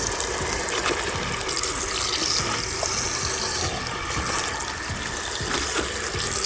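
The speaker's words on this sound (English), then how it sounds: "We now have water coming into our fill valve." Water rushes through a pool's automatic fill valve, a loud, continuous gushing hiss that stays even throughout, with no voices.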